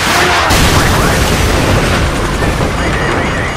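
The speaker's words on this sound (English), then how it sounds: "Incoming missile." An incoming missile explodes in the war shooter Call of Duty 4: Modern Warfare, a very loud, sustained roaring blast with heavy low rumble and crackling debris that fills the whole moment without a break.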